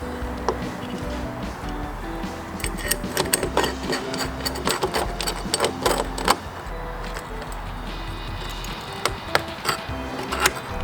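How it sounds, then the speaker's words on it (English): Bolting roof light mounts onto a car for JDM police lights: irregular clicks, taps and ratcheting metal knocks over a steady low hum, close and moderately loud, clustering mid-way and again near the end. "I'm going to bolt them down."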